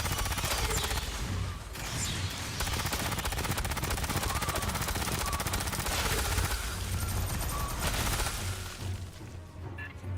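Sustained gunfire fills a firefight in the video game Aliens: Fireteam Elite, with dense rapid bursts and overlapping shots crackling continuously at high volume for the whole stretch.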